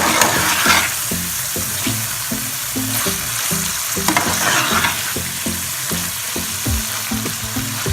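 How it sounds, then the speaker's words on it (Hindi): Boneless chicken handi with cream and green chillies fries loudly in a pot, a dense sizzle broken by regular rhythmic scrapes and knocks of a spoon stirring throughout. "और 2 से 3 मिनट तक के लिए मज़ीद भून लेंगे।"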